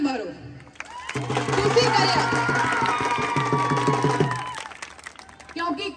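Audience at a Teeyan women's festival gathering in Janal claps and cheers for several seconds, a steady crowd roar with rhythmic clapping under a voice on a loudspeaker.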